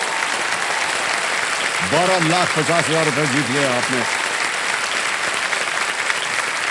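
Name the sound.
studio audience applause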